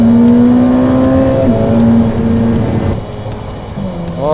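Ferrari F8 Tributo supercar with a 720-horsepower engine accelerating hard on a race circuit, a loud close engine note climbing in pitch, dipping briefly at a gearshift, then rising again.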